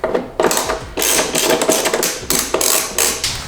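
Small metallic clicks and ratcheting of a T20 driver loosening the screws on a BMW F30 mass airflow sensor, heard close as a string of quick taps and mechanical rattles with no talking.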